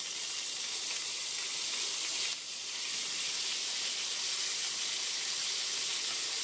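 Moringa drumsticks fry in mustard oil in a wok, tempered with nigella seeds and a green chilli. They make a steady, bright sizzle that briefly drops and then resumes at full strength, with no talking.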